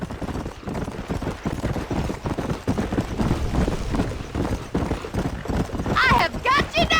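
Horse hooves clip-clop steadily while riding in Red Dead Redemption, a close, rhythmic gallop that carries throughout as speech runs over it, with a brief whinny near the end.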